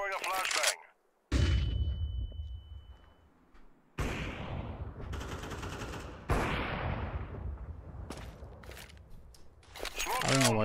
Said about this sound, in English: Flashing. Throwing a flashbang.